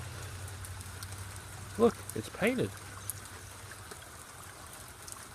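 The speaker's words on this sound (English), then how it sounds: "It's raining." Rain falls outside a shop as a soft, even, low-level hiss that continues throughout, with someone speaking briefly close by partway through.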